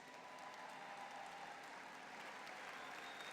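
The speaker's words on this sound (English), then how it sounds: "Minister, I think you deserve a very special round of applause." A festival crowd applauds the minister at CARIFESTA, heard as a steady, soft wash of distant clapping that stays even throughout.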